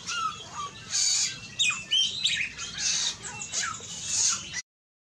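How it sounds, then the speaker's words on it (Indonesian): A samyong songbird in Indonesia sings a varied, loud run of squawks, chirps and whistled phrases, close and continuous for several seconds before stopping abruptly. "Samyong bisa menirukan suara macam-macam burung sekaligus."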